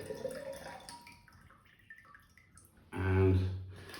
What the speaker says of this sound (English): I'm just going to tip the excess water away